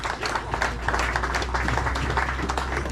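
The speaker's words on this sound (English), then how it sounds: "Another big round of applause." A crowd at a Toyota Series bass fishing tournament at Guntersville claps and applauds steadily, dense and loud throughout, with a few faint voices mixed into the noise.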